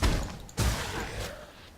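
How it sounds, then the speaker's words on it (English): Several booming explosions from the Path of Exile video game: two heavy thuds at the start and middle, then rolling, crackling blasts that fade out, loud and without any speech over them. "Wow, that's a bunch of explosions."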